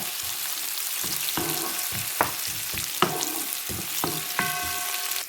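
Chopped onion fries in a pan for a prawn and capsicum rice dish, giving a steady sizzle broken by several sharp scraping stir strokes, close and moderately loud, with no talk.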